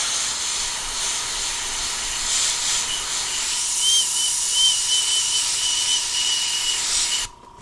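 An airbrush spraying paint hisses steadily with a thin, high whistle running through it. The sound stays close and continuous, then cuts off abruptly near the end.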